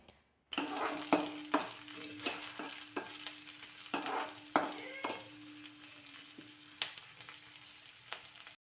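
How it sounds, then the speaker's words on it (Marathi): Chopped onion sizzles and fries in a pan, a steady close crackle broken by repeated clanks and scrapes of a spoon stirring against the metal. "एक चिरलेला कांदा यामध्ये घातलेला आहे आणि कांदा थोडासा परतून घ्यायचा आहे"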